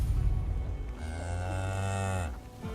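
A cow moos once in the video game Tainted Grail: Fall of Avalon, a long low bellow rising slightly in pitch, heard alone with no talk.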